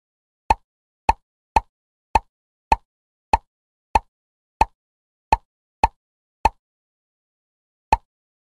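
Bubbles pop one after another in a kids' counting game, a dozen short, clean plopping sounds, mostly at an even rhythm with a pause before the last one, each crisp and alone against silence.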